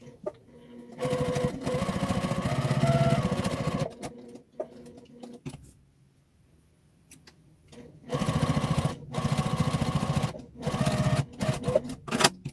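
A sewing machine stitching around the edge of a fabric mug rug made from scraps, running in close, loud bursts of a few seconds each, separated by brief pauses and quieter handling.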